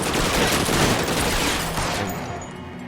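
A Tommy gun in the L.A. Noire video game fires a dense, rapid burst of gunshots that blur into one loud roar before easing off.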